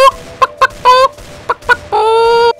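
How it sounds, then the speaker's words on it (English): Chickens clucking in the video game CS:GO, a series of loud, close squawks and short clucks ending in a longer drawn-out cackle, with no talking. "Look, there's a chicken house."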